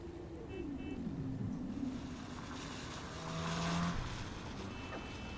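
A car engine and exhaust in Cyberpunk 2077 drone steadily with a rising and falling tone, swelling briefly louder near the end, with no talk over it.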